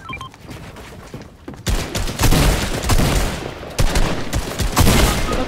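Rapid bursts of gunfire from a Fortnite match, loud and close, with repeated volleys and sharp shots stacking over one another through most of the stretch after a quieter opening.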